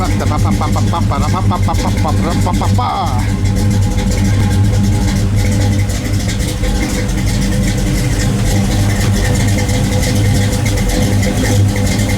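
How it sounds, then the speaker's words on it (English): A Chevrolet Camaro Z28 muscle car V8 fitted with new roller rockers revs loudly and steadily close by, its deep lumpy rumble continuous throughout with a brief higher whine near the start. "You can hear the individual cylinders firing. That's what you love to hear. That's what an old muscle car should sound like."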